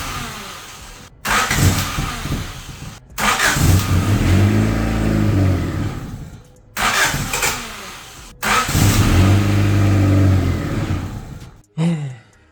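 An abandoned Honda CRX engine cranks over in several separate bursts of rhythmic starter churning, each try lasting a few seconds and stopping without the engine catching.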